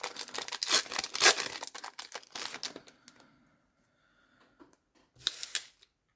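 A Pokémon card booster pack wrapper being torn open, crisp crinkling and tearing foil close by, loud bursts that fade to quiet handling, then another short crinkle near the end.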